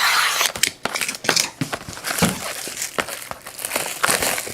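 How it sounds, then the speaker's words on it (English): Scissors or a blade cutting open a sealed retail box of football trading cards, with close crinkling, snipping and crackling of packaging in irregular bursts, fairly soft and without speech. "Let's see if I can cut it."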